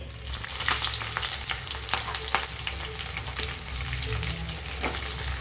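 Sliced onions fry in coconut oil for a biryani masala, giving a dense, steady crackling sizzle with sharp pops and spits throughout, close and fairly loud, with no talking.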